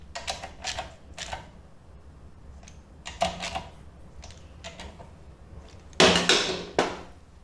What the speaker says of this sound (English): Using a 12mm socket, tighten the carrier bolt and the two caliper mounting bolts.